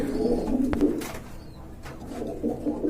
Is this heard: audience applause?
no